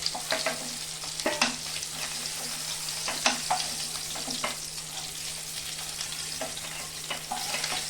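Koi fish frying in oil in a wok, a steady crackling sizzle with occasional sharper pops and spatters, no voices.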